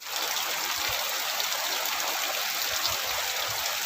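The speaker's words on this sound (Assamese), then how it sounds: "এয়া বৰষুণ পৰিয়ে আছে।" Steady rain falls on a home garden plot where peanuts are being dug up, a constant dense hiss of drops and trickling water with no break and no voices.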